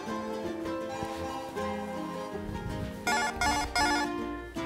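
A telephone rings indoors in a home kitchen during dessert preparation, its repeated electronic ring bursts growing louder near the end over background music, with no talking.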